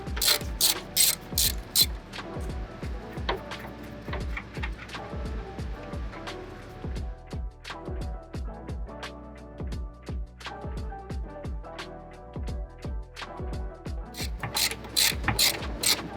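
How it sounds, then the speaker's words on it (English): A 14 mm socket on a ratchet loosens the strut top mount nuts of a 2009-2012 Lexus LS460 AWD: quick, crisp clicking bursts at close range, repeated in rapid runs at the start and end, with quieter clicks and handling noises between. "Using the same 14 millimeter, you can remove top mount"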